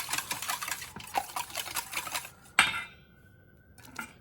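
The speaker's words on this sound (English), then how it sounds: "Throw your eggs in first just to kind of break them up a little bit" Eggs are tossed into a bowl and beaten for a frittata, with quick clinking taps and scraping against the bowl, then one sharper knock followed by a brief ringing tone and near-silence.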